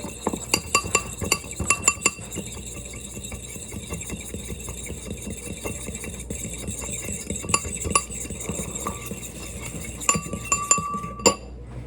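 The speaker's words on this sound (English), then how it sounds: "You want to grab that large egg, crack it into a bowl, mix it up." An egg is beaten in a bowl, giving rapid, light clinks of a utensil against the dish in quick bursts, clearest at the start and near the end, over a faint steady background hum with no talk.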